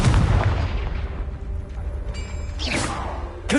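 A Confringo fire spell exploding in the video game Hogwarts Legacy, a loud booming blast at the start that rumbles and decays, followed by a whooshing burst and debris-like crackle.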